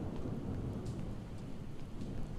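Heavy rain with a continuous rumble of thunder in the zombie survival game Project Zomboid, a dense, steady downpour with no voices.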